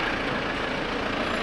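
Trucks and other vehicles packed along both sides of the road near Pashupati market on the India–Nepal border, a steady dense rumble of engines and traffic noise with no pauses.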